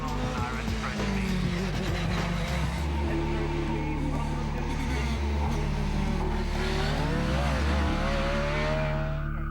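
A hill climb race car accelerates up the hill at speed, its engine loud and sustained, with several brief gear-change dips before it pulls on.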